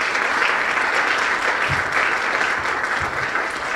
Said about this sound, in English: a very good round of applause for the panel.